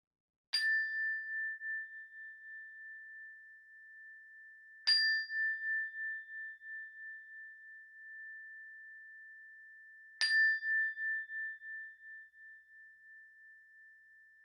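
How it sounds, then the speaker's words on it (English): Three struck meditation bell tones, each a clear ding ringing out and slowly fading, spaced several seconds apart in otherwise silent surroundings. "listen to the sound of the bell until you can't hear it any longer"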